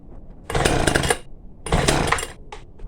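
A Hyundai petrol hedge trimmer being pull-started with the choke on, heard as two loud, close bursts of rough engine firing separated by a short gap, then a brief third sputter.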